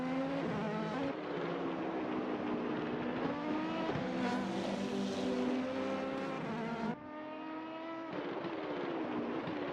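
Several race cars roaring past on the Interlagos circuit during a multiclass endurance race, engines loud and close with rising and falling pitch as they sweep by, one car's note cutting off sharply near the end.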